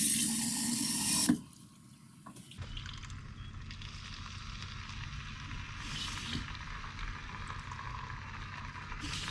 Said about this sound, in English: All right, a little bit of water.